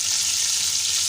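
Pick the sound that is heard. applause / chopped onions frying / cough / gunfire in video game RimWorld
chopped onions frying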